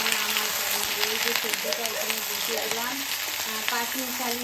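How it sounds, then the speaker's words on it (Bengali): Vegetables cook in a pan with a steady frying sizzle and scattered crackles, while voices and household sounds carry on faintly underneath. "আর এই সবজিটা আমি এখন রান্না করবো"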